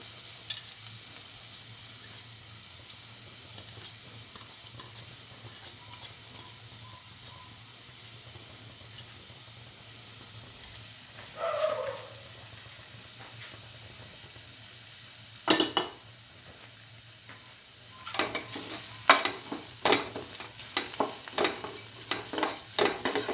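Vermicelli pasta is stirred into a pineapple and coconut milk mixture in a pan: a low steady hum, then a spoon scraping and clinking against the pot in irregular, fairly close bursts toward the end.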